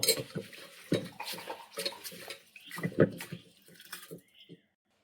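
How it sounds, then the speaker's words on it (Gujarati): Water sloshing and splashing in a pot as lentils are rinsed by hand, with clinks and rustles in uneven bursts, then quiet at the end. "આ બધીને વ્યવસ્થિત પાણી નાખી અને ધોઈ નાખવાનું છે"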